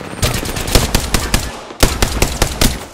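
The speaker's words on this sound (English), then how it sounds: "They're shooting at me!" Rapid bursts of automatic gunfire in an Apex Legends battle royale match, loud and close, several volleys with a brief pause near the middle.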